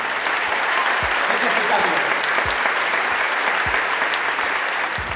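Theatre audience applause fills the room with steady, dense clapping throughout, loud and close, while someone speaks over it.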